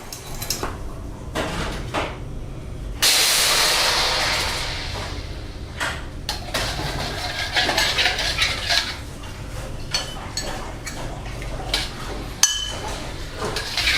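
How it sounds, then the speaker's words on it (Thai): Fish sauce for fried sea bass simmering in a pot, a steady bubbling hiss under occasional metallic clinks and stirring taps from a utensil. "เราจะเคี่ยวให้น้ำซอสมีความเหนืดเล็กน้อย"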